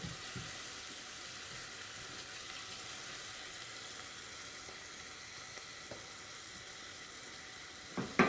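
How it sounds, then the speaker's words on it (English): Steady, crackling sizzle of mushrooms sauteing in a pan, continuous and fairly close, with a brief clatter of a utensil near the end. "I'm building flavor in the pan by sauteing"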